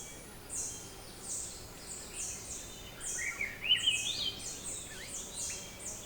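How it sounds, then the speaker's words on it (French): Three-wattled bellbird calling in a Costa Rican cloud forest, distant piercing high notes repeated over a steady hiss of forest insects and ambience, with a louder call near the middle. "chants les plus perçants de la forêt de nuages est celui de l'araponga tricaronculé"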